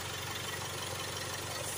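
A Jaguar XE 2.0 diesel engine idles steadily, a continuous low rumble with a regular pulsing beat heard close up and alone.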